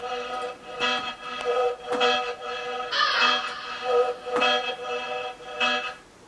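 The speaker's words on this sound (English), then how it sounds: "I really like this crow" A crow cawing sample laid into a Halloween trap beat, harsh repeated caws in a steady rhythmic pattern, about eight bursts spaced evenly, moderately loud with a brighter burst midway.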